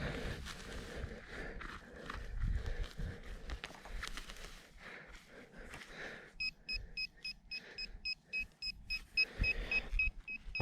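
A metal detector sweeping a field sounds a series of sharp electronic beeps and pulsing tones toward the end, after rustling and handling noise.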